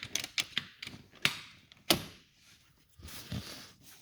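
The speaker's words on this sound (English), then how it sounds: "as you pull the lever up there, that thing moves" Seat adjustment lever mechanism in a Land Rover Evoque being worked during a seat repair, giving a run of close mechanical clicks, creaks and sharp snaps with quieter gaps between them.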